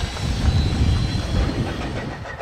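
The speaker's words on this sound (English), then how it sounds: "the WW Twins top and tail their passenger train between Waiuku and the Pukeawari Depot" A pair of WW class steam locomotives, top and tail on a passenger train between Waiuku and the Pukeawari Depot, rumble past nearby with a steady low rolling of wheels and faint rhythmic clatter.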